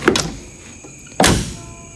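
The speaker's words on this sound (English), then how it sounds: "This door shuts really good." A door on a 1967 Plymouth Valiant swings shut with one solid, close thunk and a brief rattle, following a softer handle click a second earlier.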